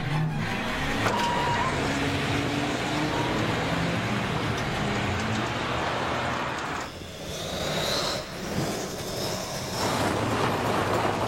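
A car engine runs and revs steadily as the vehicle pulls away, a continuous close mechanical drone with shifting tones and a few brief dips near the end.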